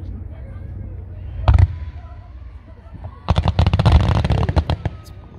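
Small-town fireworks display outdoors: a brief burst of crackling pops, then a dense volley of sharp bangs and crackles lasting over a second, heard at moderate distance with crowd murmur and talk underneath.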